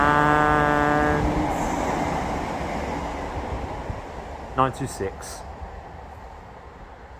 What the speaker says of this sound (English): 4 electrostars passing there at the same time.